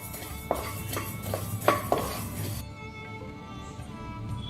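A spatula taps and scrapes in a pan while chakli bhajani grains are lightly roasted, making a few close metallic clinks over a steady low hiss before the sound settles quieter.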